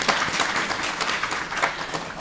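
Audience applause at a women in business forum, a moderately loud patter of many hands with slight swells, continuing steadily throughout without speech.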